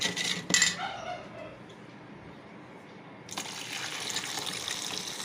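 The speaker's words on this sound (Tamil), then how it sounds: "தண்ணி ஊற்றணும்." Water is poured into a bowl of cow's-milk curd already mixed with salt, onion and green chilli, making a close splashing gush that starts briefly, fades, then returns as a steady pour to the end.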